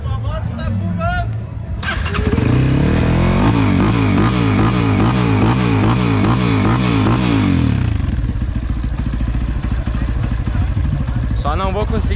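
Trail motorcycle engines rev and idle up close before a trail ride, a loud throbbing rumble that rises and holds, with people talking before and after.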